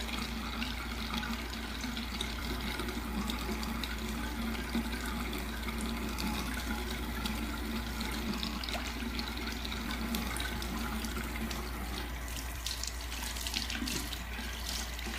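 Tap water runs steadily into a sink while historical hair pieces are rinsed of powder and pomade, a continuous close rushing splash with slight shifts in the flow.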